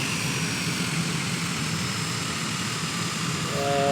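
A propeller aircraft taxiing to the end of a runway in a flight simulator game, with a steady droning engine hum that holds constant throughout and swells slightly at the end, alone with no voices.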